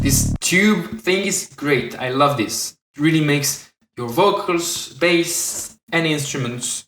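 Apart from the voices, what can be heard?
None of the usual background noises is heard.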